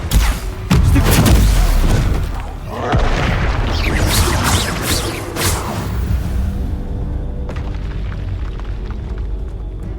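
Spell combat in the video game Hogwarts Legacy, with loud booming blasts, whooshes and crackling impacts layered densely over the first seven seconds before settling into quieter rumbling and clicks.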